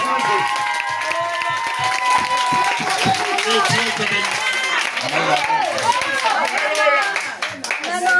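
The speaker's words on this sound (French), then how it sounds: "Il peut acclamer le Seigneur" A congregation at a Sunday church service claps loudly and steadily, with crowd cheering and voices calling out over the continuous applause.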